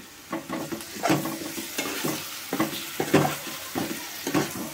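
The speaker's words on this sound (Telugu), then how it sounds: "ఇప్పుడు దీంట్లోకి టమాటా ముక్కలు కూడా వేసుకుందాం. ఒకసారి మొత్తం కలుపుకుందాం." Tomato pieces stirred into a frying pan of sizzling oil in a village-style home kitchen, with repeated scraping spoon strokes over a continuous close sizzle.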